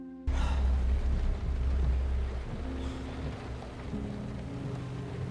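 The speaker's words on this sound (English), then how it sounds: "The rain also provides a very cool sound, which gives the film a lot of atmosphere and tension" Rain pours in a film scene after a sudden start, a dense, steady hiss with a low rumbling undertone that eases slightly but keeps going to the end.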